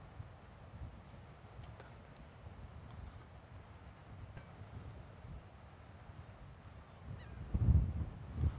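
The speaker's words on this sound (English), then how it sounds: "It's really peaceful out here right now. Just the birds and stuff." Geese honking at Sunset Lakes Park in Portland, Texas, a few scattered calls over quiet wind, with a louder burst of close honks near the end.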